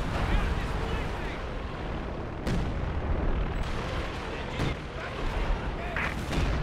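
Artillery barrage in Company of Heroes during a 4v4 match on Essen Steelworks: a dense, continuous rumble of shellfire with several sharp blast transients standing out, loud and sustained, with voices talking over it.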